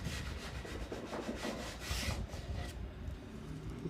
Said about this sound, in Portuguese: uma lixa 50 e vir passando.